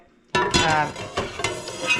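Extra virgin olive oil crackles and sizzles in a hot frying pan, starting abruptly after a brief quiet moment and continuing with irregular spits and pops.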